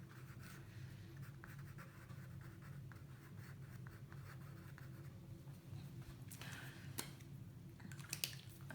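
A pen or pencil scratches across paper in short strokes, faint and close, over a steady low background hum, with a few louder scrapes near the end.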